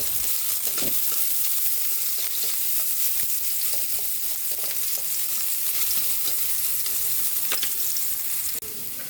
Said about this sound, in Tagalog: Magigisa na po tayo ng luya para sa ating tinola.